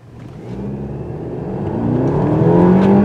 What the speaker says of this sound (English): And it does move out with authority.